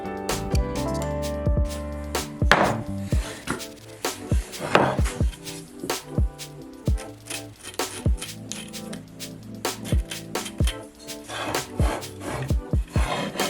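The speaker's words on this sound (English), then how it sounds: "As you carve away meat from the inside of the bowl, the lip becomes more and more unstable." Hand carving the inside of a burned ash wooden bowl, with repeated sharp scraping and chopping strokes of a tool against wood at an irregular rhythm, close and fairly loud, and no talking.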